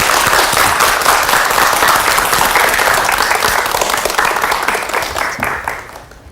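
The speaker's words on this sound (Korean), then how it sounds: "박수 부탁드립니다." A lecture audience breaks into loud, dense applause welcoming a Jeju National University geography education professor, sustained for several seconds before gradually thinning and fading out at the end.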